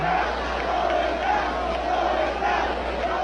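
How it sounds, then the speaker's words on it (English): Loud stadium crowd at a 1999 NLCS baseball game yelling and chanting in unison, a sustained roar of many voices filling the whole moment. "Oh, they're yelling, "Throw it back.""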